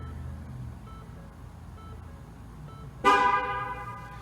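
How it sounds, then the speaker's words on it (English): Ford vehicle horn chirping during a TPMS sensor relearn, one short loud toot near the end after quiet background, no voices. "When you hear all of those chirps, you know that you have a good working sensor."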